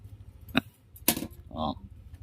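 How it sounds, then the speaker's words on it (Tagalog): A key turns in the ignition switch of a Vperman 150 motorcycle, giving a few short close metallic clicks and scrapes with brief pauses between them. "Ngayon subukan naman natin sa susi manual."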